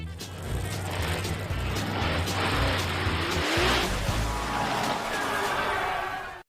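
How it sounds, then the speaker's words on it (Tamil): A monster truck drives with a steady, loud engine roar and tire noise, a rough sustained rumble that fades out at the end. "Monster drugs."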